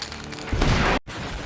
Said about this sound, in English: That big-ass explosion only temporarily blinds the enemies, so the group can rescue them.